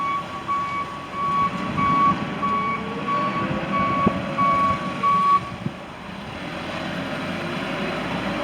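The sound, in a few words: 2007 Toyota Braun handicap van driving off, reversing beeps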